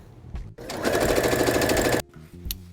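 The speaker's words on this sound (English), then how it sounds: "Sew the 2 panels together, and then make more, and then sew those together." A sewing machine joins two fabric panels for a DIY metallic summer top, a loud, fast, even stitching rattle that starts abruptly and runs for about a second and a half before cutting off.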